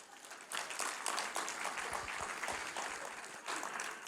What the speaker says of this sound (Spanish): Vamos a darle un aplauso a ellos.